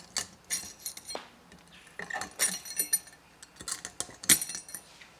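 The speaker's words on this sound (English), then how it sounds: "using a standard head screwdriver, we can work that brake hardware off" A standard flat-head screwdriver pries metal brake hardware off the front brake bracket of a 2012 Ford F150, giving scattered sharp metallic clinks and scrapes, close and irregular, with no talk.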